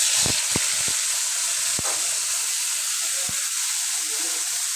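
Ginger and garlic hitting hot oil in a pan for a fish curry, giving a loud, steady sizzling hiss throughout with a few sharp crackles near the start.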